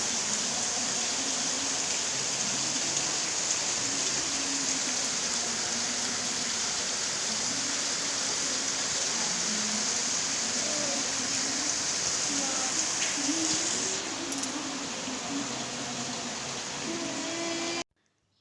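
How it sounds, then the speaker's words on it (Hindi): Heavy rain pours steadily outdoors, a dense unbroken hiss that runs evenly for nearly the whole stretch before cutting off abruptly; faint voices may sit beneath it. "ये देखिए यहाँ पर पड़ने लगी है कितने ज़ोरों से बारिश"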